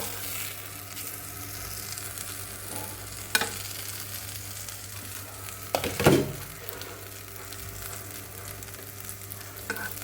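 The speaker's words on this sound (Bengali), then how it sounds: "এটাতে ঢেকে ঢেকে আমি ভেজে নেব" Pumpkin pieces fry in hot oil in a covered pan for mashed pumpkin bhorta, a steady close sizzle with occasional scraping stir strokes and clinks, no voices.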